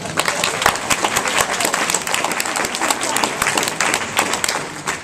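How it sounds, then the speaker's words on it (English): A round of applause from a crowd at a youth election event, continuous, busy clapping with sharp individual claps standing out, near and fairly loud, with some murmur of voices underneath. "And a round of applause for them as well."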